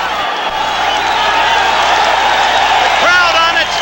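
A roaring boxing crowd on its feet at the end of a Marvin Hagler versus Vito Antuofermo fight, loud continuous cheering and applause with whoops and shouts throughout.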